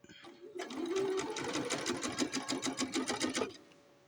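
A sewing machine stitches a quick straight seam along the unhemmed edge of a lace strip. A short, rapid, evenly pulsing run of needle clatter starts up, holds for about three seconds and then stops, close and fairly quiet.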